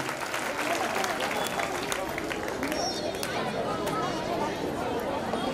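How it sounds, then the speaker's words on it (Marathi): A crowd at a public full-moon festival for sixteen clan goddesses claps in dense, continuous applause, with chatter blended underneath throughout. "टाळ्यांचा गजर करूया"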